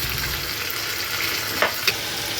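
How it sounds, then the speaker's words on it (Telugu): Thinly sliced onions sizzle in hot oil in a pan, a steady close crackling hiss with a couple of brief scraping stirs near the end. "ఈ ఆయిల్లో సన్నగా తరిగిన ఉల్లిపాయ వేయాలి. ఈ ఉల్లిపాయ కొంచెం వేగాలి."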